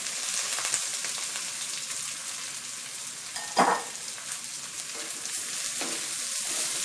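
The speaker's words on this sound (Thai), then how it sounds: "แล้วเราก็ผัดตัวข้าว" Old jasmine rice, rinsed and drained, stir-fried in fragrant hot oil in a pan for chicken rice: a dense, steady close sizzle with occasional stirring scrapes and one louder clank midway, no talk.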